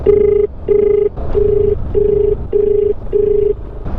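A phone call rings out unanswered, a steady electronic ringback tone pulsing in even, repeated beeps, loud and close, with faint background noise between pulses.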